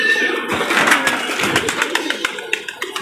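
A flock of fifty-two released racing pigeons flutters and calls close by, wings flapping in quick bursts with soft cooing amid loud, busy bird activity.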